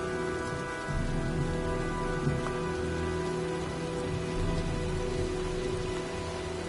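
Rain falls steadily as a storm moves in, a dense continuous patter with a low rumble beneath it and faint steady tonal hums.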